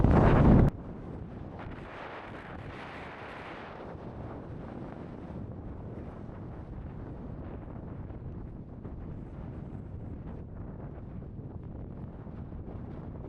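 Wind rumbles and buffets against the microphone in a low, steady roar, gusting unevenly after a brief louder burst at the start; no speech. Recorded at about 3,200 m in Sary-Chelek Nature Reserve, Kyrgyzstan.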